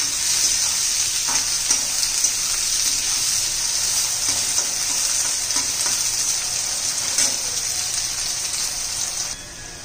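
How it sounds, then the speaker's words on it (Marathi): Sliced onions fry in a pan for dhaba-style bhuna chicken masala, giving a dense, continuous sizzle, close and loud, broken by faint stirring scrapes before easing off at the very end. "आता उभा चिरलेले कांदा घातले मी 2. छान असा परतून घ्यायचा."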